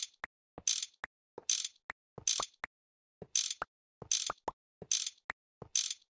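A wrench ratchets on conduits in the Minecraft GregTech modpack, a video game, in crisp mechanical clicking bursts repeated about eight times in a regular rhythm, with short quiet gaps between them and no talking.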